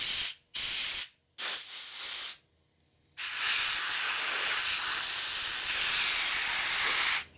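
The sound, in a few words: rubber tipped air nozzle blowing compressed air through transmission part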